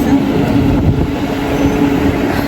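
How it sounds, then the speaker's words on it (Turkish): A tram rumbles steadily close by in Istanbul near Taksim, a continuous low mechanical drone with street noise and faint voices in the background. "Tramvay."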